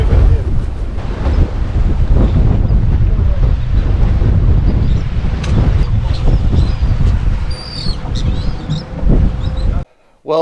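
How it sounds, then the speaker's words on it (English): Blustery wind at a beach during a kingfish tournament buffets the microphone with loud, rumbling gusts over faint surf, with voices mixed in beneath the roar. "It's blustery today, right?"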